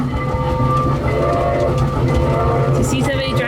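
Steady rumble of a passenger train on a holiday ride to see Santa, a continuous low drone with faint rail noise running under a conductor's voice and chatter, close and constant throughout.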